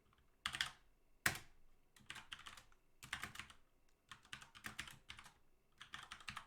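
Someone types on a computer keyboard while writing code, producing quiet, close clusters of rapid key clicks in irregular bursts separated by short pauses.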